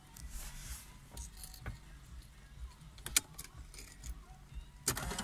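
Keys jangling as they are pulled from the ignition of a 2003 Mercedes-Benz CLK500 W209, a few faint metallic clinks and rattles scattered over a quiet car-interior background.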